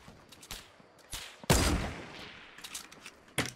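Gunfire in Fortnite Battle Royale, scattered shots ringing out at varying distances with one loud close blast in the middle and another burst at the end, without talking.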